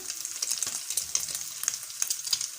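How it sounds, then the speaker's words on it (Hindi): Potato and chana dal kababs fry in a pan with a steady, close sizzle and crackling spatters throughout, with no one talking. "अब हम इसको तकरीबन 1 से 2 मिनट एक साइड से फ्राई करेंगे"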